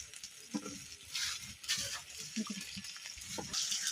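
Meat frying and sizzling in a pot, with crackling spatter, stirring clinks and bursts of hissing over about four seconds as someone talks.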